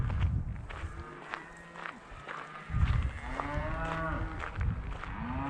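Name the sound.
cattle mooing in a herd out at a campsite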